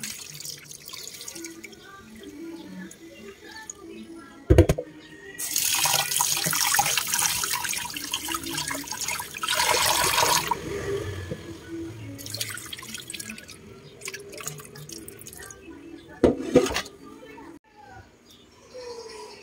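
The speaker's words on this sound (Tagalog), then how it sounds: "Hugasang mabuti ng 2 beses or 3 beses." Glutinous rice for biko washed in water: splashing, swishing and dripping in bursts with short pauses, close, a sharp knock or two, faint birds in the background and some voices.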